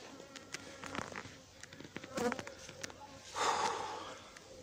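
Angry honeybees buzz close by while a beekeeper recovers vacuumed-up bees, irregular whining bursts rising and falling, with a louder swell of buzzing near the end.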